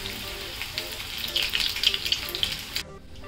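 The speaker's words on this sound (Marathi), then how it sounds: "लॉलीपॉप आहे ना, तुम्ही नेहमी मीडियम गॅसवरच तळा" Chicken lollipops deep-fry in hot oil at medium heat, crackling and popping up close in lively bursts before the sound cuts off near the end.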